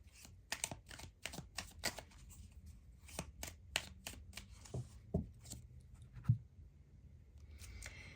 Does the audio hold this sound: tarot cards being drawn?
yes